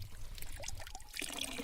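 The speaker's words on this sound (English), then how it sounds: "I'm out on the trail with Bruno, drinking from a fresh mountain water spring." Fresh water from a mountain spring on a trail trickles and splashes faintly in a short, irregular, bubbling stream.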